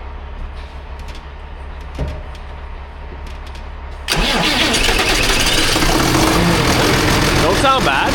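A truck engine cranks and catches, then settles into a loud, steady idle that runs to the end. Before the start there is only quiet background noise with a few small knocks.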